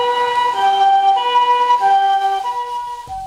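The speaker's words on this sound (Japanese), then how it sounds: "救急車が" A Japanese ambulance siren wails in a loud, close two-tone pattern, alternating high and low notes, on the streets of the Mount Koya World Heritage town.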